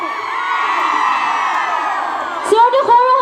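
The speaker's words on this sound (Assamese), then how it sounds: "অকণমান ডাঙৰকে চিঞৰ এটা লাগে" A crowd at a women's entrepreneurship campaign meeting shouts and cheers loudly in a sustained roar, with whoops and sharper yells bursting out near the end.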